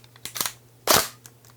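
Tokyo Marui next-generation MP5A5 electric airsoft gun firing one shot with no magazine inserted: light mechanical clicks, then a single sharp snapping shot and a faint click as it stops, heard alone and close.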